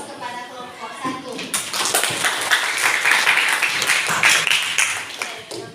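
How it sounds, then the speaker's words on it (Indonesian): Applause from a classroom group for group 1 after their presentation, a few seconds of loud, dense clapping with voices mixed in. "Dan kita beri aplaus kepada kelompok 1."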